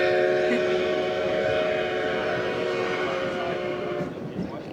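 A train rumbles steadily past in Chama, New Mexico, its whistle holding a sustained chord over the heavy rolling noise before it fades slightly at the end.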